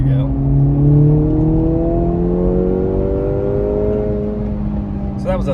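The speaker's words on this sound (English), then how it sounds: "exhaust note sounds perfect. Let's see if I can get some cracks." A 2024 Acura Integra Type S pulls hard through third gear, its exhaust note climbing steadily and loud throughout, with a faint crackle near the end.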